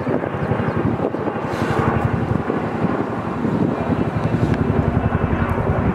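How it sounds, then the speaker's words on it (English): A Chinook helicopter flies overhead with a loud, steady rotor throb and engine roar outdoors, mixed with wind buffeting against the microphone throughout. "Nice and noisy Chinook."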